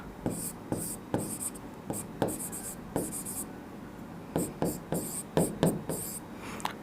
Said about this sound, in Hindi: तो जो भी दे रखा है उसको लिख लेंगे यहाँ पर।